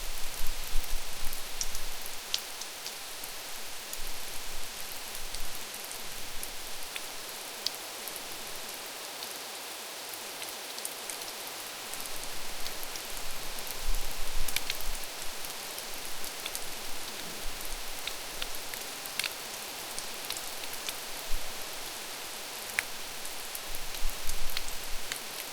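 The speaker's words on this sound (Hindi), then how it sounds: "बूंदें गिरने लगी, आहिस्ता आहिस्ता।" Rain falls steadily in Harsil Valley in the Uttarakhand hills, a dense, even hiss of drops on surfaces that holds a constant level throughout, with no voices.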